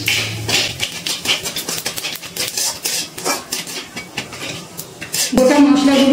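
Metal spoon clattering and scraping in a cooking pan as whole cinnamon, star anise, cardamom, cloves, coriander and cumin are stirred, rapid repeated clinks, then a steady hiss near the end.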